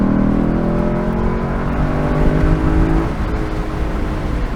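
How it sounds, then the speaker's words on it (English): A 2022 Lexus LC 500 Convertible engine revs through its downshifts, rising in pitch with steady harmonic drone before dropping, loud and close, with no talking. "the acceleration is one thing, but the ridiculous downshifts are just so satisfying as well."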